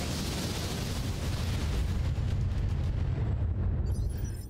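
A volley of long-range missiles in a mech combat video game fires and explodes as one loud, dense, roaring burst that holds for several seconds and then fades, with no talk.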